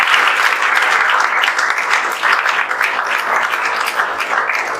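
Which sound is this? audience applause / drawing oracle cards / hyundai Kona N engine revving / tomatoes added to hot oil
audience applause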